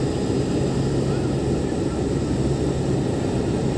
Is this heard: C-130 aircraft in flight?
yes